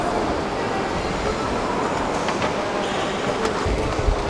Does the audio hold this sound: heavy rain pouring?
no